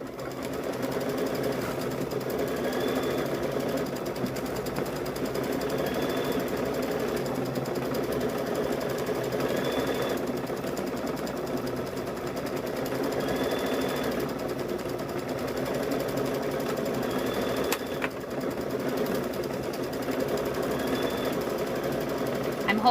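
Sewing machine stitching along an apron near the strap, a steady, fairly quiet mechanical whir running continuously with faint rhythmic ticking and small pauses in speed.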